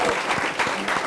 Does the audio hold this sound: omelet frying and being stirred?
no